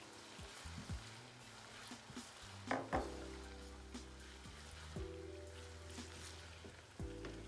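A spoon stirs chili purée simmering in a pot, with faint scraping and sticky bubbling strokes, a few sharper knocks against the pot, and a low steady hum throughout.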